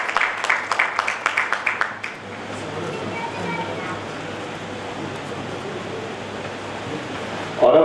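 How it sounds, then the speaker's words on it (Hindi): Applause from an audience at a civic ceremony marking Bikaner city's 536th foundation day: a burst of clapping for about two seconds, then fading into a steady noisy crowd wash. "जोरदार तालियां बजाकर दिलीप जी का वेलकम करें"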